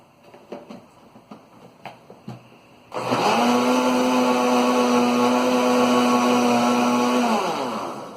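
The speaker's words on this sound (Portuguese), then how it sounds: "E dá só uma batidinha no liquidificador" A few light clicks and knocks, then a blender mixing cake batter whirs loudly at a steady high pitch for about four seconds before winding down.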